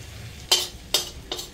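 Butter in a pan for white sauce pasta, stirred briskly at home: three short bright scraping sizzle bursts spaced about half a second apart over a faint steady background, close and moderately loud.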